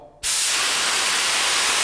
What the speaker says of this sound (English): I will start with a closed fan, round setup, and I will open the fan during spraying.